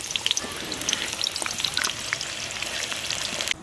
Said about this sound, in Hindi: यहीं पे हम प्याज फ्राई होने के लिए छोड़ देते हैं।